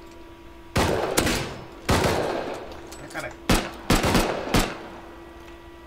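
Gunfire in the video game Rust comes in loud, close bursts of shots, with a brief voice heard in between.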